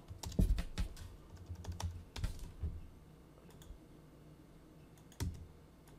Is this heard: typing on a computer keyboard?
yes